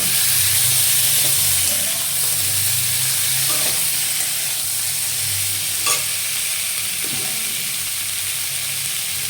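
Boiled chickpeas frying in a pan for a chana kabli dish, with a steady broad sizzle and a few scraping stir strokes from a spoon, heard close and alone with no talk.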